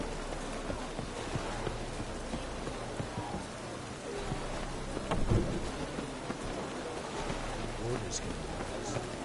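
Steady rain with rumbling thunder in a fantasy medieval video game, a continuous soft hiss with a brief louder crack midway, under a voice talking.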